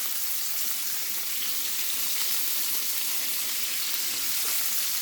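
Chopped onion sizzles steadily in a hot pan with pepper and rosemary, a dense, even crackle of frying that holds close and loud from start to finish with no voices.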